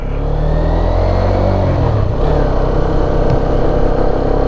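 A motorcycle climbs a hill border road, its mid-pitched engine droning loud and close with steady revving and a brief shift in tone partway through, with no speech.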